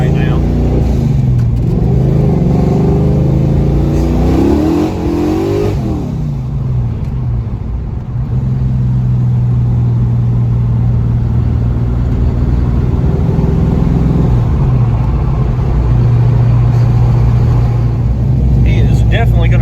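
A Foxbody Mustang with a 408 engine accelerates hard, its loud close exhaust roaring and rising in pitch through gear changes, then settling into a sustained heavy drone before climbing again.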